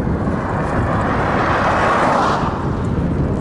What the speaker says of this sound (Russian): Ветер встречный сильный.